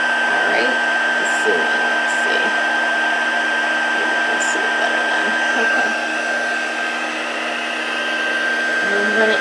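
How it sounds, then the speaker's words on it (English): An embossing heat tool runs on setting 2 for card making, giving a steady, loud blowing whoosh like a hair dryer that holds evenly throughout with no talking. "So let's warm up the heat tool."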